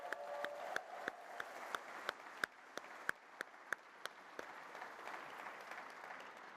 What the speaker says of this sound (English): Please give them both a huge round of applause.